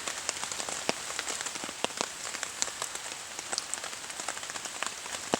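Rain falls steadily on a camping morning, a dense, soft patter of drops with scattered sharper taps close by, continuous and fairly quiet with no voices.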